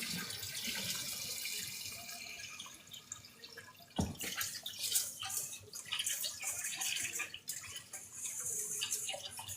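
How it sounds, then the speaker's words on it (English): Cold tap water runs and splashes over rice being washed in a bowl at a kitchen sink, a steady gushing stream with drips and a sharp knock partway through. "you wash your rice, wash it with cold water and about 3 times"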